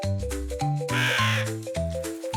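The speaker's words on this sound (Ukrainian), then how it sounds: "Гава." A harsh crow caw rises over a bouncy melody of tones in a children's cartoon, standing out briefly in the middle of the music.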